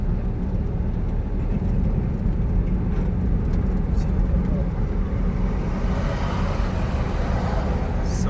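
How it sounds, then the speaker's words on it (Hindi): Vehicles speed at night along a lit road over a culvert in the city of lakes, a continuous broadband roar of passing traffic with swells as cars rush by, loud and steady. "सपाटे भर रही गाड़ियाँ"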